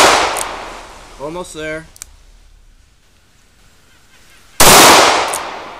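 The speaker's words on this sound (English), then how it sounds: "And there's 5 shots." Shots from a Ruger LCR revolver ring out, one sharp loud report at the start and another near the end, with a quiet stretch between them and a voice speaking briefly.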